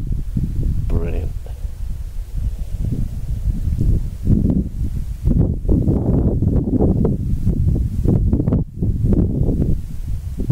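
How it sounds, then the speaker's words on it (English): Wind sweeps through a barley field in Droxford, Hampshire, on an August evening, making a loud, blustery rush and rustle with heavy buffeting gusts against the microphone. "The wind and the barley."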